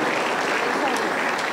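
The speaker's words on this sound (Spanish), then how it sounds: "Aplauso para el Señor Jesús." Church congregation applauding together, a dense, continuous burst of clapping that fills the room at close range.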